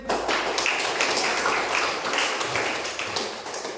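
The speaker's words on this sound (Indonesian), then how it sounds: "Ini Tepuk tangan boleh ini." Students in a university classroom applaud together, a dense, steady patter of many hands that lasts a few seconds at moderate level with no talk over it.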